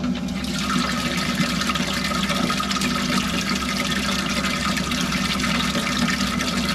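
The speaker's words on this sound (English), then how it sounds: "actually moving quite a bit of water" Water pump circulating coolant through a newly installed air-to-water intercooler on a turbo LS-swapped 1968 Chevrolet Camaro, a steady, continuous rushing flow with a low hum beneath, close and unbroken throughout.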